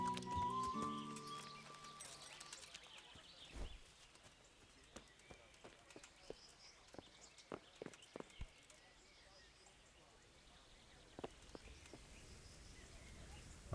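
Horses in the medieval video game Kingdom Come: Deliverance, with scattered hoof clip-clops and footfalls at an irregular pace, fairly quiet over low ambience, plus a brief whinny-like tone near the start.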